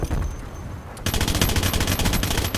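Submachine gun fire in a Cold War shooter video game, a dense, loud, continuous burst of rapid shots after a brief quieter stretch.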